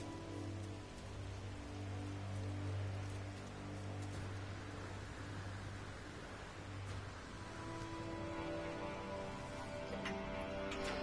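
Steady rain patters across a surface on a planet in the space exploration game No Man's Sky, a dense, even hiss with scattered ticks of drops, continuous and close throughout with no voices.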